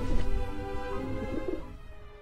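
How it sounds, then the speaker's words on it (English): Birds coo in the video game Grim Fandango, a few soft, low calls over faint background sound that fades toward the end. "These birds aren't gonna let me get near their babies."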